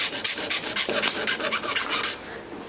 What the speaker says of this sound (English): I've just got my razor blade. I'm just scraping it off.